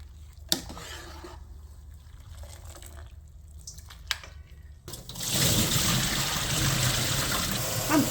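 Blanched red pepper leaves are rinsed in cold water. A few sharp clicks over quiet background give way to a loud, continuous splashing and trickling of water for the last few seconds.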